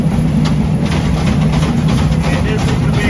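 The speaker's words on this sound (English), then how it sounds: "This is standing right behind the steam engine. You can see the steam and smoke coming off." An antique steam locomotive hauling a passenger train in Thailand, heard from just behind the engine: a steady, loud low rumble and drone runs continuously, with faint rhythmic chuffing layered over the mechanical roar.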